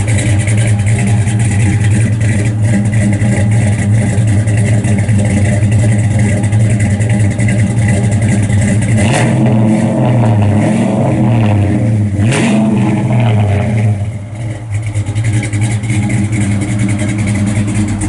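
A 1971 Chevrolet Monte Carlo resto-mod with a 6.0 LS engine, stage 3 cam and LS3 heads rumbles loud and close at a lumpy idle, then revs up sharply and falls back several times, with no talking.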